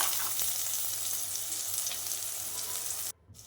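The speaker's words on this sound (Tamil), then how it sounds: "இப்போ வந்து இந்த பேஸ்ட்டெல்லாம் நம்ம வந்து சேர்த்திட்டு இதை வந்து கொஞ்ச நேரம் வந்து நம்ம வந்து வணக்கி விட்டால் போதுங்க" Ginger-garlic ground paste fries in a pan for a white pea and vegetable kuzhambu, giving a steady, loud, close sizzle that cuts off abruptly near the end.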